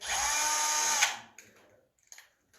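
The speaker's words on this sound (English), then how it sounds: "So you can go with a power drill or hand drill." A power drill runs in one close, sustained whir for about a second while hooks are driven into a chalkboard frame. It stops abruptly, then a few faint clicks and handling knocks follow.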